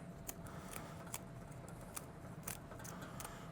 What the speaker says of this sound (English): get those lovely trusty scissors, and we are straight through